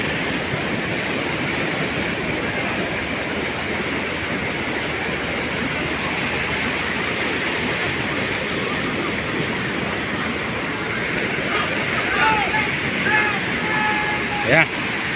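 Big sea waves crash and roar without pause during a storm at sea, with a boat waiting offshore. The surf and wind noise stay loud and steady throughout, and faint voices come through near the end.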